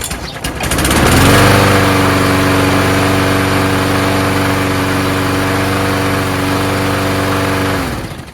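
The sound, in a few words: Murray push lawn mower engine running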